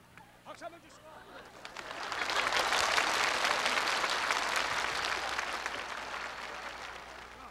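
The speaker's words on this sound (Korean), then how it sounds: "박수 한번 주시고" An audience at a comedy impression show bursts into clapping after a few scattered claps, swelling into loud sustained applause with faint crowd murmur beneath.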